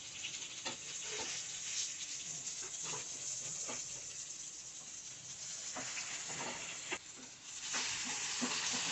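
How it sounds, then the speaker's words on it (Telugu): Eggplants frying in a pan with a pinch of turmeric and onions, giving a steady hiss and sizzle throughout, with occasional soft clicks and scrapes as the pieces are turned. "ఇవి నెమ్మదిగా టర్న్ చేసుకుంటూ చక్కగా ఫ్రై చేసుకోవాలి"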